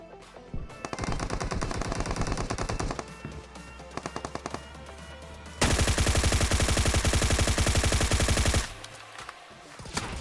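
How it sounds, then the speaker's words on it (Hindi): Rapid automatic gunfire from a battle royale shooter game, with sustained bursts and a dense, louder stretch of continuous fire in the middle before it eases back to lighter shots. "बहुत देर से फायरिंग चल रही है वहां पे"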